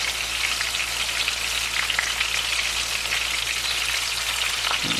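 Gafftop catfish, a saltwater catch, fries in a hot pan with a loud, dense, steady sizzle and crackle that continues without talk.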